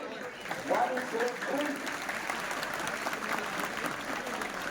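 Audience clapping at a Rotary Club women's health guidance event, a dense sustained round of applause from a hall full of people that holds steady throughout, with voices faintly mixed in.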